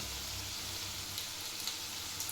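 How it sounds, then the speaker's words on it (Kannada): Potatoes (aalu) frying in oil in a pan: a steady, close sizzle with soft crackles and occasional bubbling pops, no voices. "ಸ್ವಲ್ಪ ಹಂಬನ್ನ ಬರೋವರೆಗೂ ಕರ್ಕೋಬೇಕ್ರಿ ಫ್ರೆಂಡ್ಸ"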